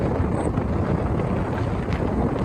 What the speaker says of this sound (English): I don't know if I'd keep the wind sound there.